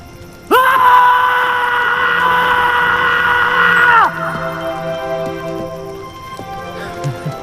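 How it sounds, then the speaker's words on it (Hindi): A crowd of people scream loudly together in one sustained, high-pitched shout lasting about three and a half seconds, then it cuts off into quieter background ambience with faint tonal sounds. "आइए, आज गला फाड़ के जिंदगी को बोल देते हैं"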